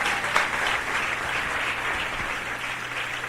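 A church congregation applauds to acclaim the Lord, a dense, sustained wash of many hands clapping together at even loudness throughout, with no speech over it.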